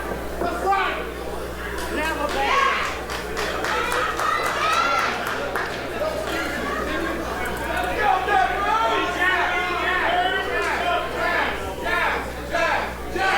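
A wrestling crowd cheers on Jazz during her match against Sarha Del Rey, with steady loud chatter, shouting and scattered claps throughout and no let-up.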